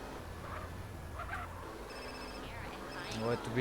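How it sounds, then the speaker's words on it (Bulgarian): A phone rings in Grand Theft Auto San Andreas, a faint, repeated electronic trill in short bursts, heard quietly alongside soft voices. "Ето виждате вече даже ни звънят."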